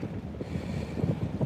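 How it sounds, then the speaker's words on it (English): Wind buffets the microphone on a lake during bass fishing from a boat, a steady low rumbling roar with irregular gusts, close and fairly loud with no talking. "I didn't realize the wind was as bad as it is"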